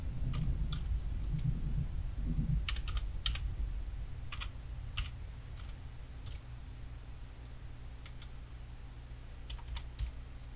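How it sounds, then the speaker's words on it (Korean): Text being typed on a computer keyboard gives irregular bursts of quick, light key clicks over a low steady hum, close and fairly quiet, with no talking. "컴포지션 클릭한 다음에 텍스트를 입력하실게요"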